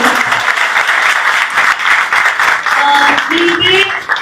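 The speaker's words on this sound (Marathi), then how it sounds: "एकदा सगळ्या कलाकारांसाठी जोरदार टाळ्या होऊन जाऊ" Crowd applause at a theatre group's stage event honouring the artists, steady clapping from many hands mixed with voices talking over it.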